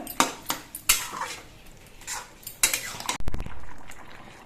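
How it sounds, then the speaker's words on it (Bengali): Rice flour being stirred into a curry in a pot, a spoon clanking and scraping against the metal in a few sharp knocks and a rattling burst near the end. "চালের গুঁড়োটা নেড়ে চেড়ে মিশিয়ে দিতে হবে"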